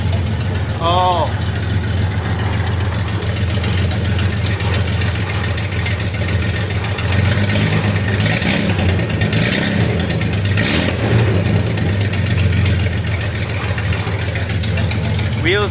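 A 1977 Datsun 280Z with an L30 engine runs loud and close, its steady rumble swelling as the clutch is popped and a wheel spins, with a few light clanks over the continuous engine drone.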